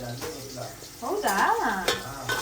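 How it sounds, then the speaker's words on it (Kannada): Ingredients for sambar sizzle in a hot pan while being stirred, a steady frying hiss with scraping strokes and a brief voice-like tone over the cooking. "ಸ್ವಲ್ಪ ಬ್ರೌನಿಶ್ ಕಲರ್ ಬರೋವರೆಗೂ ಫ್ರೈ ಮಾಡ್ಕೋಬೇಕು."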